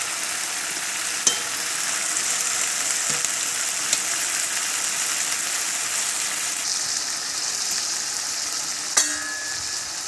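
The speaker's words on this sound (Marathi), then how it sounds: "मस्त आता परतून घेऊ आपण." Vegetables sauté in a hot pan for a Marathi home-style dish, giving a steady, close hiss of frying with occasional light clicks and scrapes from stirring.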